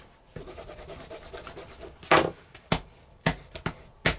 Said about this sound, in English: just give a few strops on the bevel side